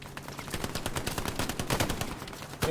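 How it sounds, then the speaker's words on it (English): Machine gun fire in the video game Hell Let Loose rattles in dense rapid bursts throughout, loud and continuous with overlapping shots and no talk. "gets taken out by the MG from Gideon."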